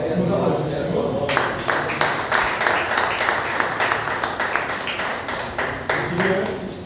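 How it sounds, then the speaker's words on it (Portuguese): A church congregation bursts into applause for the Lord partway through the service, with a voice over quieter crowd sound before a run of brisk, sharp claps that continues to the end. "Vamos aplaudir o Senhor."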